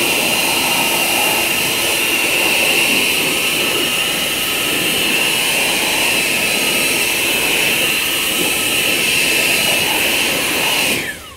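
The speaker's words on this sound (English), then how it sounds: "this is the Stubby nozzle to do a quick dry of the wheels." A car-drying blower fitted with a stubby nozzle blasts air over car wheels, a loud steady jet-like roar with a high hiss that holds constant for about eleven seconds and then cuts off abruptly at the end.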